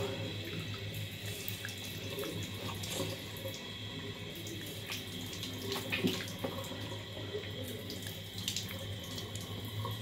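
Tap water runs steadily into a sink while a face is rinsed, a continuous close splashing flow with small bursts of water throughout.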